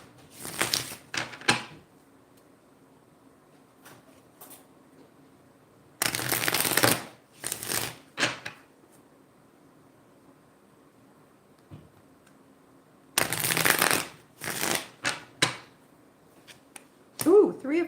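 Tarot cards being shuffled in three separate bursts of quick riffling and snapping, close by, with quiet pauses between them.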